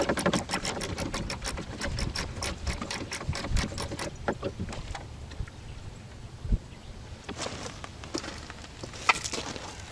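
A ratchet works a 10mm bolt on a Chevy Silverado door handle, giving a quick run of close, sharp clicks for about four seconds, then slower scattered clicks and handling knocks.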